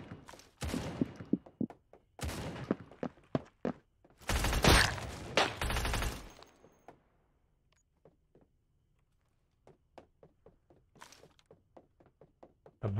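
Gunfire in the shooter game Badlanders: bursts of rapid shots and a loud sustained volley, then scattered single cracks and thuds, including footsteps, spaced through the quieter stretch.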